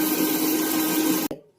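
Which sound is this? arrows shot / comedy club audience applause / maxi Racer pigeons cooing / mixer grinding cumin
mixer grinding cumin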